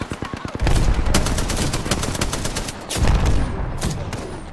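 Loud, close automatic gunfire in Apex Legends, dense rapid bursts that run almost continuously, with a brief lull before another heavy volley.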